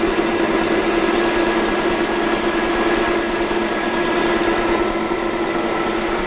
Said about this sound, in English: And now I'm going to start doing my machining process.